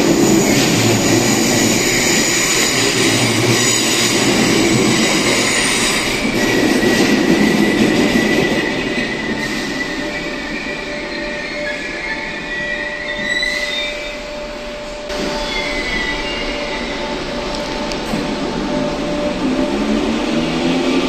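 An old Merseyrail train in Liverpool rumbles past with a steady roar, wheels squealing faintly at times and clattering over the rails, loud throughout.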